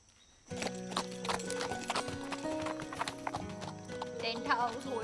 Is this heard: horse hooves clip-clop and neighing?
yes